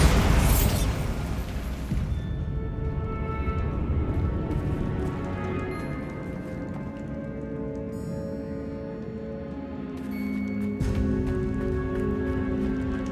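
Bombarda blasting spell going off in the Hogwarts Legacy video game: a loud burst at the start with a bright crackle, then a long rumbling decay, with further booms and magical tones ringing over the continuing din.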